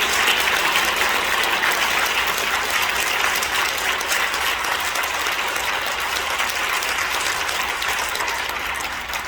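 An audience at a church thanksgiving service for a new association leader applauds in congratulation, a dense, continuous roar of many hands clapping that holds steady for nine seconds before easing slightly at the end.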